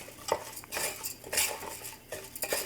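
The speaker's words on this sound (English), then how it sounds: "There you go, and we're just gonna stir this in." Rice is stirred into translucent onions in a pot for Filipino arroz caldo, with continuous close scraping and clattering of a metal spoon against the pot and no talking.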